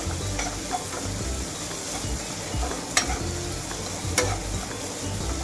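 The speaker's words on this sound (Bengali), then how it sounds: "লবণ দিয়ে একটু নাড়াচাড়া করলে দেখবে খুব ভালো একটু গলে গলে যায়" Salted brinjal mash being stirred in a sizzling pan, a steady frying hiss with the spatula scraping throughout and two sharper clinks against the pan.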